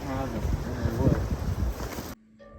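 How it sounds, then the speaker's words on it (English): Wind blows through woodland near a cabin, a steady rushing roar buffeting the microphone while a person talks over it, then cutting off abruptly near the end. "Getting rather windy."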